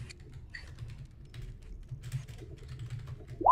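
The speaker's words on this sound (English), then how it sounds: "Let me type this in." A computer keyboard typed on at a tabletop role-playing session, quick light clicks in irregular bursts over a low hum, close and steady, ending in a brief louder sound.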